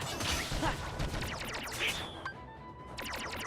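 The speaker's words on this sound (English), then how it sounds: "The fireworks are so strong." Fireworks burst in a video game, a run of sharp cracks and crashing pops over a busy, dense mix of game sound effects, loud and close, thinning out toward the end.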